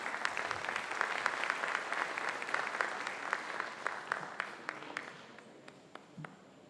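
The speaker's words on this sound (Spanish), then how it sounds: "Un aplauso para ella." An audience at a Venezuelan conference panel applauds a speaker, a dense run of many hands clapping that holds steady and then thins into scattered claps before fading out.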